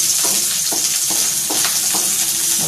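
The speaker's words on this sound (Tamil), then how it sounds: "பச்சை மிளகாய், நல்லா வதக்கிக்கோங்க" Green chillies sautéing in a pan over low flame for egg fried rice: a steady close sizzle broken by regular spatula scrapes about every half second, with no voices.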